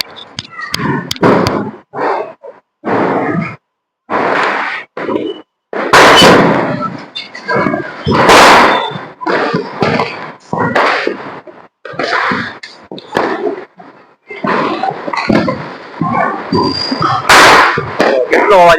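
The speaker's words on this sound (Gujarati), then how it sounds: "મારા સુરતમાં તો આવી રીતે ફટાકડા ફૂટે" Diwali firecrackers burst over and over from a rooftop in Surat, loud sharp bangs close by and farther off, some coming in quick clusters, with people talking between them.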